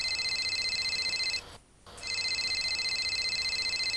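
Telephone ringing in steady electronic trilling bursts, loud and close, with a short gap of silence midway before the ring resumes; no talking.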